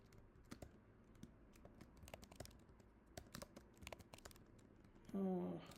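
Fingers tap on a computer keyboard in quick, irregular bursts of soft clicks, close and faint, ending with a short louder sound at the end.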